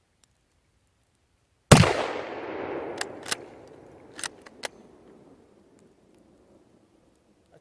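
A single loud, sharp shot from a Mosin Nagant 91/30 rifle at an outdoor range, its boom rolling off into a long fading echo, followed by a few lighter clicks of the bolt.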